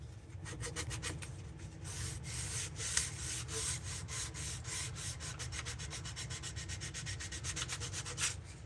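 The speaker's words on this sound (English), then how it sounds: "while you're hand sanding, especially sappier wood" Steady rhythmic scraping of sandpaper rubbed back and forth over wood, close and continuous, with quick repeated strokes and no talking.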